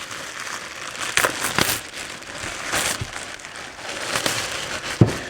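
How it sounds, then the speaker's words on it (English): Plastic bag around a new, never-opened Miata coolant tank being ripped open: a few sharp crinkling, tearing bursts close by, with a brief louder crackle near the end. "I'm just going to rip the bag."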